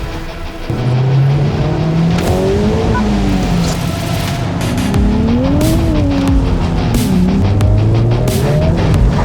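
A Honda Civic Type R FL5 or Nissan Fairlady 400Z accelerates hard with heavy wheel spin, its engine note rising and falling through gears beneath loud, continuous tire squeal, close and without speech.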